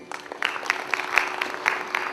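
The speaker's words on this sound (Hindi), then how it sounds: "कलाकारों की हौसला अफजाई के लिए आप तालियां तो बजा दीजिए" Scattered, sparse applause from the audience at a classical music and dance performance in New Delhi, a few distinct claps standing out against a thin ongoing patter, fairly close and moderately loud.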